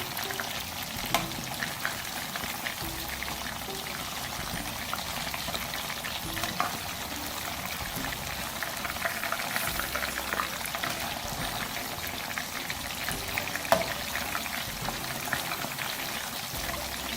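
Masala-coated fried chicken pieces sizzle steadily in oil as they are turned one by one, with sporadic clinks and scrapes of a utensil against the pan over a long, even stretch of frying.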